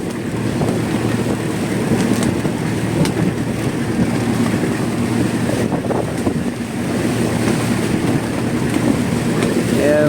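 Gusty sea wind buffets a small fishing boat pushing against the wind on Iligan Bay, waves and splashing water churning beneath a constant loud roar, with a faint voice briefly under the noise.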